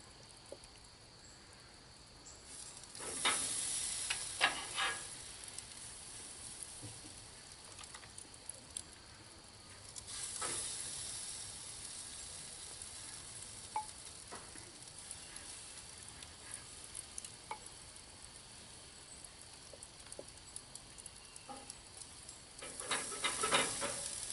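Pieces of rabbit cook over pecan wood at a backyard barbecue, giving a soft, continuous sizzle with crackles and pops that swell at a few moments. The sizzle stays fairly faint and steady, and no one talks.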